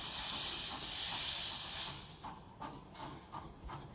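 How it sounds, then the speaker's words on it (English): A steam tram locomotive lets off exhaust steam in a loud, continuous hiss for about two seconds, which then cuts off into a few short, softer puffs and chuffs. "that is exhaust steam right there"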